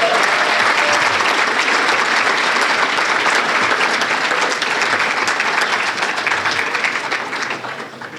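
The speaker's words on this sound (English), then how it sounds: "Give her another round of applause" A loud, dense round of applause from an audience at a small business awards ceremony holds steady for several seconds before tapering off near the end.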